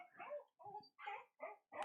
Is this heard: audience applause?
no